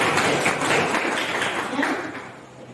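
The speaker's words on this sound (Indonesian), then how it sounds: "Berikan tepuk tangan dulu." A classroom of students in an Islamic history lesson claps briefly, a short burst of scattered applause that fades toward the end, with some voices mixed in.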